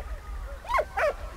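A dog in the video game Valiant Hearts gives two short yips or barks close by, about a quarter second apart, over a low game hum.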